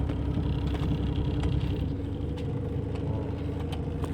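A car engine idles roughly and misfires from a faulty ignition coil or spark plug, a close, steady low rumble broken by uneven stumbles.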